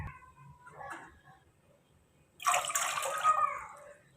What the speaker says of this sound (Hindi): 2 कप हमने इसमें पानी शामिल कर दिया है